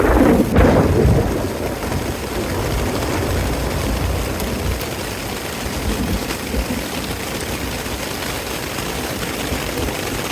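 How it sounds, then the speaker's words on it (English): A hail storm with thunder hits a campsite on Segment 7 of the Colorado Trail. A loud rumble opens it, then dense, steady hail and rain hiss continuously up close. "in not too many seconds later it started to hail"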